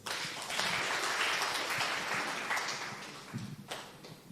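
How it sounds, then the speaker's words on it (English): Audience applause in a hall for Sister Celestine Nasiali at a Capuchin Sisters partnership event, a steady broad wash of clapping for about three seconds that tapers off near the end. "Sister, karibu sana, a round of applause."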